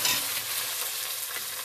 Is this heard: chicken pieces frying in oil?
yes